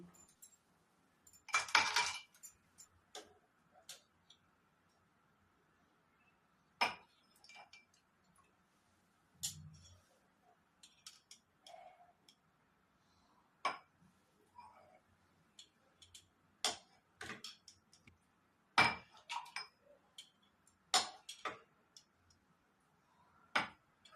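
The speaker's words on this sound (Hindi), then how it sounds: "ये जो गोंद कतीला के शरबत भरूंगी उससे पहले इसमें मैं 2-3 बर्फ के टुकड़ा डाल देती हूँ।" Ice cubes dropped into drinking glasses before pouring gond katira sharbat, giving a scatter of sharp, close clinks and ticks spread across the stretch with quiet gaps between, no talking.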